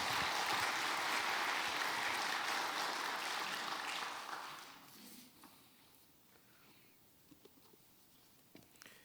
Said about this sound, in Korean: 우리 글로리아 찬양대를 위해서 격려의 박수 부탁드리겠습니다